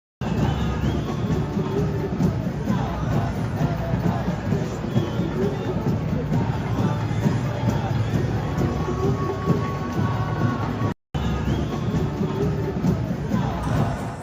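A large street protest crowd in London makes a steady dense roar of many voices and scattered cheering, loud and continuous with a brief cut near the end.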